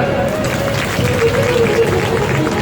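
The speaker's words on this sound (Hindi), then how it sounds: "बजाओ ताली" Crowd clapping during a Bhagavat Katha religious storytelling gathering, a dense, loud, continuous patter of many hands with a murmur of voices mixed underneath.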